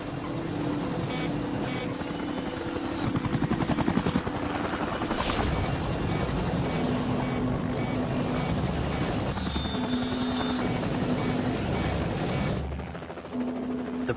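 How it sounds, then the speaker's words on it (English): A rescue helicopter hovers in howling high winds, low on fuel, its rotor a loud, steady, throbbing roar with a rhythmic chop that holds continuously throughout. "The helicopter is now low on fuel."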